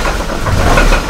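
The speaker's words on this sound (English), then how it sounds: "the knock's a little bit less loud because the RPM is so low" A Hummer H3 engine idles rough at around 500 RPM, with a low, steady rumble and an uneven knock running underneath, heard up close with no talking.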